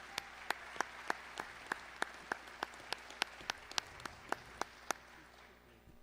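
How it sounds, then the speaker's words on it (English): A single person claps a slow, regular beat for candidates at a Broussard mayoral and city council forum, each clap distinct and fairly close over a quiet room hum, with no crowd joining in. "y'all can give them a round of applause"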